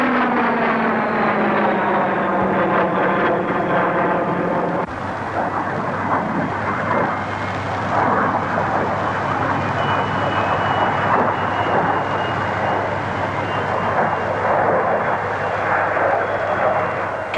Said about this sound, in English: The Folland Midge, powered by an Armstrong-Siddeley Viper jet, can fly at 600.